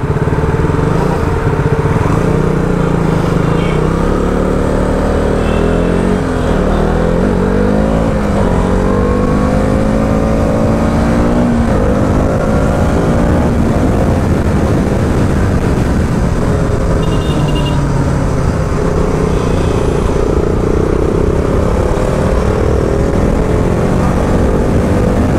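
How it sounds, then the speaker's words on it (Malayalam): Wind noise inside a Ridex Titanium motorcycle helmet while riding: a loud, constant roaring rush of air mixed with a rising and falling engine drone, continuous throughout with no talking. "ആ ഒരു വിൻഡ് നോയ്സ് എത്രത്തോളം ഹെൽമെറ്റിന് അകത്ത് വരുന്നുണ്ട് എന്ന് നമുക്ക് ചെക്ക് ചെയ്ത് നോക്കാം"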